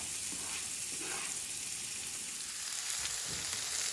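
Tomatoes and garlic sizzle steadily in a hot pan, a continuous close frying hiss with faint crackles and soft pops running throughout.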